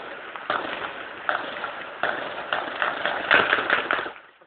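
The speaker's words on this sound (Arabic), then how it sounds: "اطلاق نار كثيف اطلاق نار كثيف على المتظاهرين" Heavy gunfire aimed at protesters at a Friday demonstration in Hama, Syria: a series of sharp cracks at irregular intervals, some close together, over a noisy crowd backdrop that fades out at the end.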